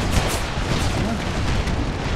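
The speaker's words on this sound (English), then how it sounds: "Most of this is artillery fire, as you can tell." Artillery fire from a Civil War battle in the strategy game Empire: Total War roars as a dense, loud, continuous wall of booming rumble with no gaps.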